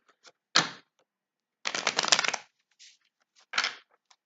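Close, crisp tarot card shuffling comes in three separate bursts, the middle one longest and fluttering, with faint taps and quiet gaps between.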